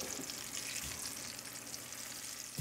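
Crab cooking in a pan gives a faint, even frying hiss, broad and steady, with a couple of soft low knocks and no voices.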